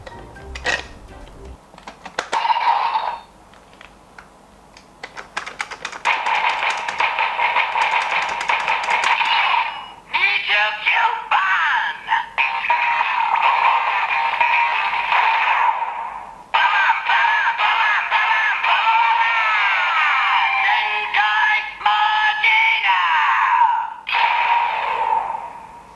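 A DX Geartlinger toy from Kikai Sentai Zenkaiger plays its harsh electronic transformation effect, buzzy and metallic with warbling tones, loudly in several bursts after some handling clicks.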